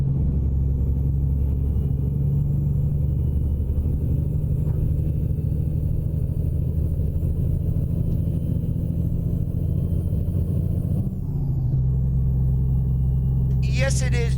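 Volvo VNL 860 truck engine in American Truck Simulator, a steady low rumbling drone held for most of the stretch, shifting briefly near the end, with a person talking over it.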